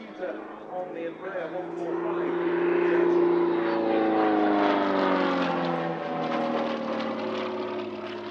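An Extra 300S aerobatic aircraft flies at an airshow, its propeller engine droning with harmonic tones that rise and fall in pitch as it swells closer and then recedes.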